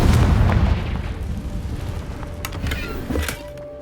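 A Confringo spell explosion in Hogwarts Legacy, a heavy low boom that fades into rumbling debris with scattered crackles and a later thud, loud and close.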